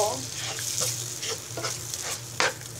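Garlic, ginger and mustard pastes frying in a pan for a raw mango laccha pickle, with a steady sizzle broken by several scraping strokes of a stirring spoon, fairly close and with no talk.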